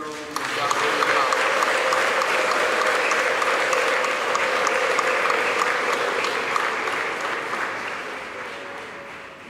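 A church congregation applauds at length during a Catholic Mass led by a cardinal, a dense, steady clapping that fills the space throughout and fades slightly near the end.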